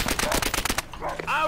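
Suppressed MP40 submachine gun in a classic Call of Duty game fires a rapid burst of muffled shots, followed by softer in-game effects and faint background voices.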